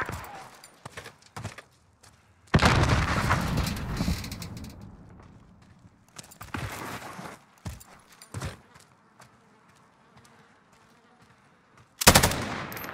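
Bruen MK9 light machine gun firing in a Modern Warfare match, sharp automatic bursts of gunfire separated by quieter gaps, with a loud sustained volley near the start and another short burst at the end.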